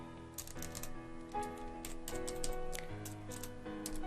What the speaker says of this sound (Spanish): estamos peleando con el teclado